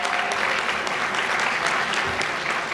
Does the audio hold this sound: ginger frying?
no